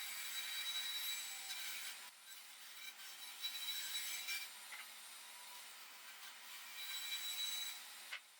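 Faint, steady rasping of a saw cutting wooden stair stringers for patio steps, a continuous scratchy stroke that pauses briefly a couple of times, quiet and alone without voices.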